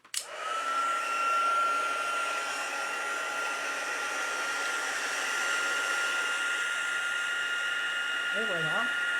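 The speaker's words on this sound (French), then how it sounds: "je vais me servir de mon fusil à chauffer" Heat gun warming embossing powder on a small Christmas tag, a steady close whooshing blower hum that starts abruptly and runs unbroken to the end.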